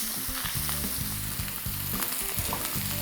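Blackened pork chops sizzle loudly and steadily in a hot pan, with a close, continuous crackle and repeated low thumps and scrapes as the chops are pressed down.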